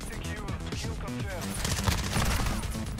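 Gunfire in the video game Call of Duty MWII, rapid bursts of shots crackling over in-game sounds, growing louder toward the end.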